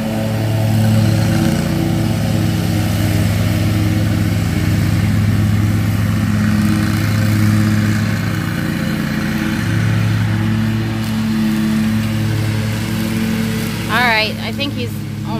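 Exmark riding lawn mower cutting nasty, very tall grass, its engine droning steadily and loud throughout, with a brief squeaky sound near the end.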